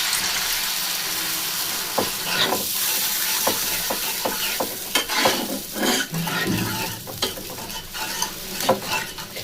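Water pours into a pan of fish curry and sets off a sizzle and bubbling, with scattered stirring clinks and scrapes against the pan close up, alone without talk.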